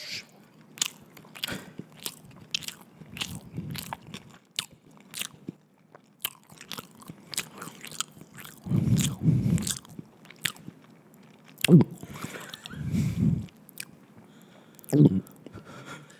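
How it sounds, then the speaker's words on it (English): Someone chews food close to the mic, with repeated crisp clicks of biting and crunching and several louder, wetter bursts of mastication spaced through the clip. "Let me finish chewing."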